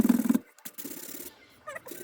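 A sanding block rubs along the chipped edge of a granite benchtop in short, rasping strokes, loudest at the start, then lighter scraping with brief pauses.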